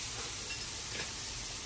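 Jerk seasoning stirred into a hot pan for Jamaican rasta pasta, with a steady loud sizzle and hiss running throughout and one brief scrape of the spoon near the middle.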